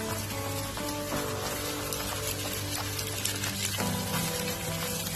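Vegetables sautéing in a pan for noodles, a steady dense sizzle and crackle that holds level throughout with no talk.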